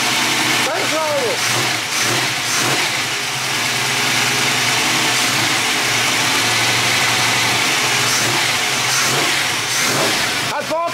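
A Robur truck engine idles loudly and steadily up close, a dense continuous rumble with a slightly high idle, while people talk over it.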